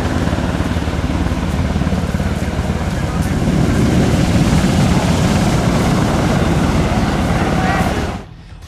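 A rescue helicopter hovers low over rough, pounding surf at Myrtos beach on Kefalonia, its steady rotor roar blending with crashing waves for most of the clip before dropping away near the end.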